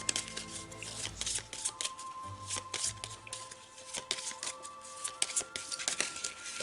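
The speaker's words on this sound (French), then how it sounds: "ici, je vais tirer une petite carte d'une citation" A deck of quote cards is shuffled by hand in a quiet room, brisk riffling and flicking bursts with soft taps as a card is drawn, close and fairly quiet with no talk.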